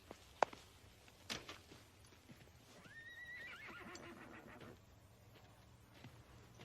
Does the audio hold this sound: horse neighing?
yes